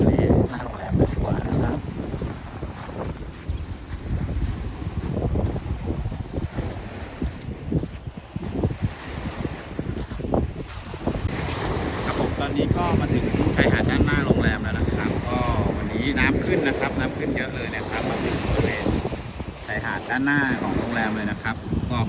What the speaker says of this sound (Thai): วันนี้ลมแรงด้วยนะครับ